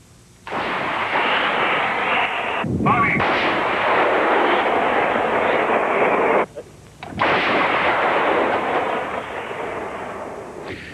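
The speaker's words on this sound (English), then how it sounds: "The army are bringing in more and more armor, here setting up heavy artillery to supplement the constant mortar bombardment." Heavy army artillery fires at targets on a mountainside, a loud sustained roar of blasts and rumbling that fills the scene, broken by a brief lull partway through before resuming.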